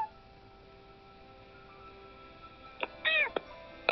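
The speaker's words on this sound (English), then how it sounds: "she just meowed for real now" A pet cat meows indoors, a few short close cries near the end after a quiet stretch with low room hum, ending on one more sharp call.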